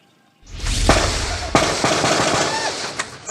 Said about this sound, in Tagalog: habang umaalingaw-ngaw ang mga putok ng baril